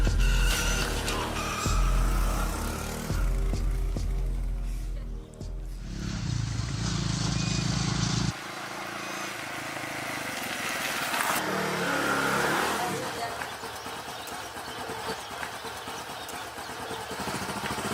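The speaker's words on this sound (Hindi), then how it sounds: "सुन, ये मोटरसाइकिल जाके खड़ी कर" A motorcycle engine runs steadily and close by for the whole stretch, with a loud, rough, continuous drone whose pitch and texture shift a few times as it revs and settles.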